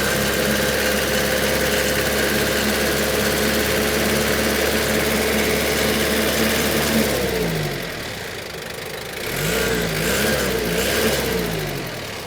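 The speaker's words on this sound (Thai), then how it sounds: "เครื่องยนต์ตัวนี้เป็น1 d z นะครับ ก็เครื่องเดิมๆแห้งๆนะฮะ" A dry, original 1DZ diesel engine in a Toyota 6FD25 2.5-ton forklift, running loud and steady, dipping briefly in the middle before returning to a rough idle.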